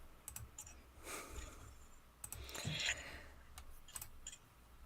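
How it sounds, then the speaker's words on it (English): Scattered computer mouse clicks, fairly faint, in quick irregular clusters over a low steady background hum, with no talking. "Sorry, I'm clicking away."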